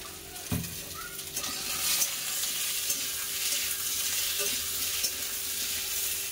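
Vegetables for a Bengali shukto frying in a hot pan, a steady close sizzle running throughout with occasional soft scrapes of stirring and a light clink near the start, no voices.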